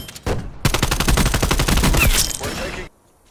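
Rapid automatic gunfire from an AK74u in a Black Ops Cold War multiplayer match, a loud sustained burst of close shots lasting about two seconds before cutting to silence.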